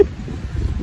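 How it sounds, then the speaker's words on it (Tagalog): Strong wind buffets the microphone outdoors in Tagaytay, a low continuous rumble that swells and gusts louder toward the end, with no voices. "Sobrang mahangin dito."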